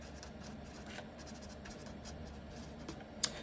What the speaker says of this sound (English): So I'm going to write this again.